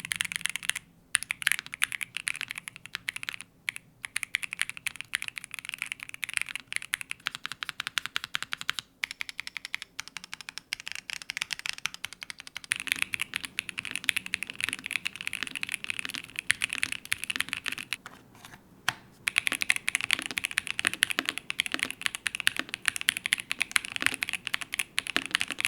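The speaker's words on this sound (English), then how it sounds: "now I've removed the silicone pad so we can hear what the keyboard sounds like without it." Fast, continuous typing on a gasket-mounted Azoth mechanical keyboard with its silicone pad removed: dense, crisp clacking keystrokes close up, with a few brief pauses and no voices.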